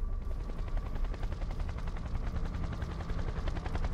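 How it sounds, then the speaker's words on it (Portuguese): A rescue helicopter in the video game Undawn arrives with a loud, continuous rotor thumping and engine roar, fast rhythmic chopping filling the whole stretch. "Helicóptero vem resgatar a gente"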